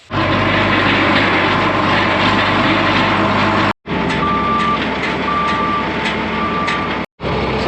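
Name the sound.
John Deere 4430 tractor engine running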